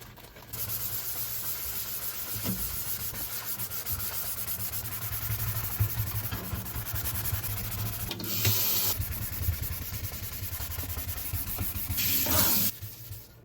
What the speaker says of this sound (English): I'm gonna clean it for another minute and we'll see how clean we could get it